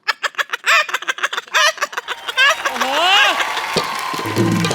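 A voice imitates a chicken, with rapid bursts of clucking followed by drawn-out squawking calls, loud and close.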